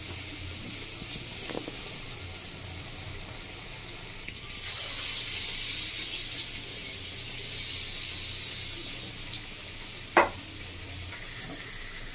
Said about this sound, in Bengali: এবার আমি এই বলগুলো একটা করে এইভাবে ডুবিয়ে বেসনের মধ্যে দিয়ে দেবো, তেলের মধ্যে।